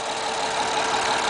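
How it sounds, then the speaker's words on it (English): A 2005 Honda Accord Hybrid's 3.0-liter i-VTEC V6 with integrated motor assist idles in a steady, even hum, close by and unbroken, with no one talking. "that's the very quiet, smooth, and yet powerful sound of that hybrid Honda"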